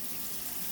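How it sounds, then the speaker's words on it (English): Running tap water rinsing raw meat, a short steady close splash and hiss. "And I always rinse my meat before I cook it."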